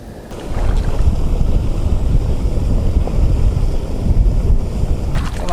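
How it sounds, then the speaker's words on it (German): Water rushing over a weir overflow on the Danube beside a campsite, a loud, steady, broadband wash that fills the whole span without a break. "was ihr da plätschern hört, ist hinter mir so ein Überlauf."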